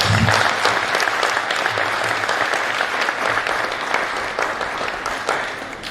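A conference audience applauds steadily throughout, a dense, continuous clatter of many hands clapping at close range with no pauses.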